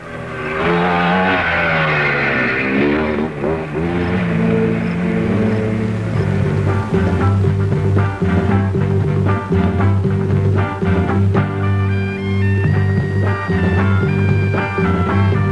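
Motorcycles start and ride at the 1973 International Six Days Trial, engines revving loudly with rising and falling pitch, overlapping machines accelerating close by in a sustained, dense roar.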